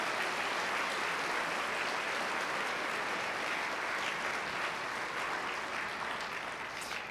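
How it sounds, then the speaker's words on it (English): A large audience applauds the District Teachers of the Year at a statewide teacher awards celebration, producing dense, steady clapping that holds at an even level throughout and tapers only slightly near the end, with no talking heard over it. "That's a big round of applause, please, for all of our District Teachers of the Year."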